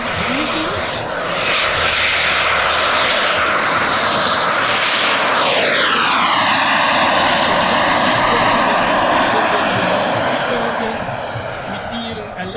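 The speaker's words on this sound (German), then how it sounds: "Hans Messmer will jetzt den Start ausführen." A radio-controlled turbine-powered scale model of a Swiss MD-11 airliner takes off at a model airfield, its loud, steady jet roar rising as it passes close by, with a sweeping pitch shift as it goes past.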